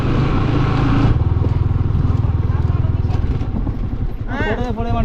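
A motorbike climbs a hill road at around 20, its engine putting out a steady, close pulsing drone, with people chatting over it and a sharper voice near the end.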